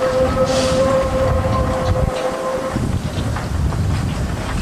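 SY 2-8-2 steam locomotive 1679 switching at the Tangshan coal mine, a steady whistle tone held over loud rumbling running noise, then the whistle stops and the heavy mechanical rumble carries on alone.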